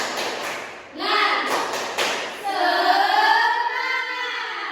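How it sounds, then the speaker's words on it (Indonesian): Schoolchildren in a classroom do a rhythmic spirit clap, a few sharp claps and thumps in quick succession, followed by children's voices chanting together. "coba kita tepuk semangat dulu"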